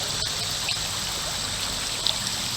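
A creek flows and trickles steadily at a quiet, even level, a soft continuous burble of water with no voices.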